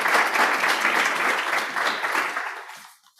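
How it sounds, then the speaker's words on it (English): Audience applause for a speaker at a morning talk on secular spirituality in education, a full room clapping steadily and fairly loudly before the sound thins and dies away at the end. "So let's give Jim McGuire a round of applause"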